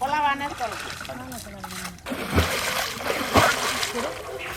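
A fishing net is cast into a pond, splashing and slapping the water in a couple of bursts partway through, with people talking before and over it.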